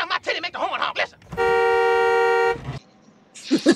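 A car horn blares in one steady sustained honk of about a second, cutting between stretches of people talking nearby.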